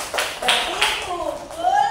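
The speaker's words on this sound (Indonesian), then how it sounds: "Kasih tepuk tangan untuk Mbak Salma" Pupils clap for a classmate during a second-grade maths lesson on telling time, several quick bursts of hand claps close by, with a teacher's voice and children's chatter mixed in.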